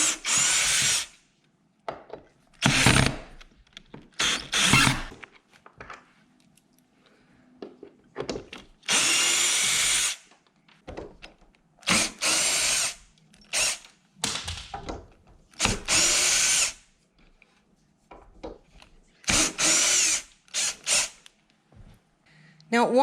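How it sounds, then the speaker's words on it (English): Power drill backing screws out of an old door hinge, repeated whirring bursts of a few seconds each separated by short pauses and small clicks, close and loud. "all we're gonna do is just take your drill and remove the old hinge"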